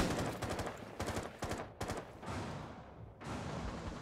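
Rapid bursts of gunfire in the Rainbow Six Siege video game, loud and close, firing in several quick volleys separated by short gaps, with no talk over them.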